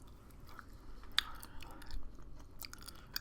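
Quiet, close chewing of cheese in mukbang-style ASMR, soft wet mouth sounds with occasional crisp clicks and smacks, steady and intimate, no talking.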